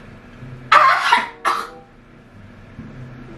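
A person fakes a harsh cough for a prank, one long rasping burst followed by a shorter second cough, close and loud, then quiet room tone.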